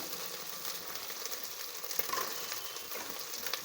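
Chopped carrots fry in hot oil in a pan for a vegetable khichdi, giving a steady, fairly faint crackling sizzle with occasional louder pops and stirring scrapes, no talking.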